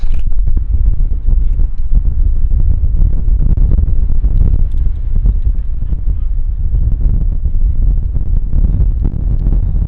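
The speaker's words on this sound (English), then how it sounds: "It's kind of windy again." Strong wind buffets the microphone in continuous heavy, low rumbling gusts for the whole stretch, loud and close, in a granite canyon in northern Yosemite.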